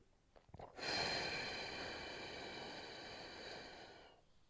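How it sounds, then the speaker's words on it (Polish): One full exhale pushed out through the mouth as part of a deep-breathing exercise for the diaphragm. The breath is near and breathy and runs for roughly three seconds, with no other sound. "I pełny wydech ustami."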